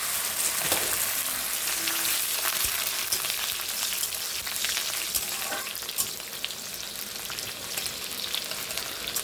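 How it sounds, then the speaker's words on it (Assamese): Chopped onions fry steadily in oil with cinnamon sticks, cardamom and bay leaves for a lamb curry, giving a continuous close sizzle and crackle with a few faint stirring clinks and no talking. "মোৰ পিঁয়াজখিনি ভজা হৈ গৈছে।"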